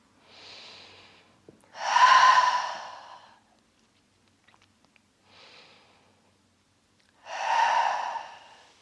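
Two slow, deep breaths taken during a yoga session, each a soft inhale followed by a longer, louder, breathy exhale, close and alone in a quiet room.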